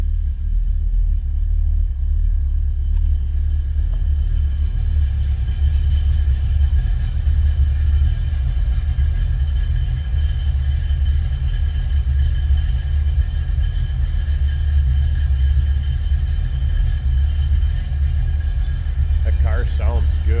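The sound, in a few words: 1940 Pontiac street rod engine idling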